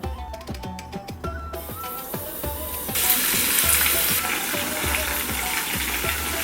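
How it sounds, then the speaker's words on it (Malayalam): Chicken pieces frying in hot coconut oil give a steady, loud sizzle with crackling pops and occasional clinks of a utensil, growing brighter partway through. "വെളിച്ചെണ്ണ ഇവിടെ നന്നായി ചൂടായി വന്നിട്ടുണ്ട് നമുക്ക് ഓരോന്നായി ഫ്രൈ ചെയ്തെടുക്കാം"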